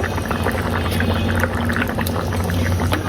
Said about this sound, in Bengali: এখন আমি আদা রসুন পেস্ট দিয়ে দেব